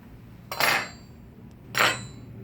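A table knife is set down on a table twice during a table-setting lesson, two soft, brief clinks about a second apart against a quiet room.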